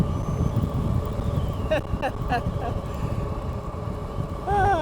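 Steady, loud wind rush buffets the microphone while a Philodo H8 AWD e-bike cruises into a headwind, a continuous low roar with faint tonal whines near the end.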